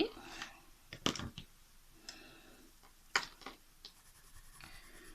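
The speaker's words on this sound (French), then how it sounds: "C'est vrai qu'ils marquent bien le papier." Coloured markers, drier than usual ones, drawing on paper in green ink, giving faint scratchy strokes in short bursts with pauses between them, heard close up.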